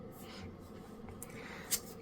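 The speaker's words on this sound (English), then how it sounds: "as I'm shuffling out these cards" Tarot cards are shuffled in a quiet room, producing faint soft rubbing and sliding sounds with a couple of brief crisp flicks near the end, close but low in level, with no voices.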